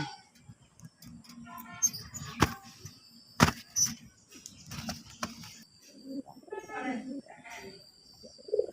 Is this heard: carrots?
no